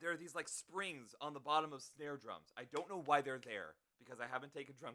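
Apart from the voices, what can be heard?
No distinct noise like a dog, phone or traffic.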